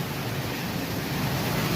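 A waterfall in a sunken garden gives a loud, steady rushing roar, broadband and unbroken, close by with no voices over it.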